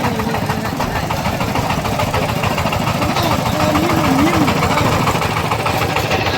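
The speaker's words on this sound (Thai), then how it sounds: "การไปกันมาเพื่อก็เอารถไถแบบนี้แหละ" Farm tractor engine idling steadily in a rural Lao village setting, a continuous low rumble throughout with some background noise and faint voices mixed in.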